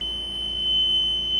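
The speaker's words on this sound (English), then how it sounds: "He's testing something up here with our LED lights for the oil pressure alarm and the engine temperature alarm" A steady, high-pitched alarm buzzer for engine oil pressure and temperature sounds continuously aboard an old Hallberg Rassy 352 sailboat, a loud unbroken electronic tone over a low hum.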